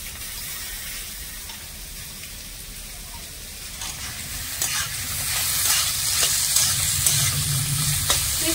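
Vegetables stirred and frying in a pan, a continuous close sizzle with scraping stir strokes that grows louder and busier in the second half, with no talking.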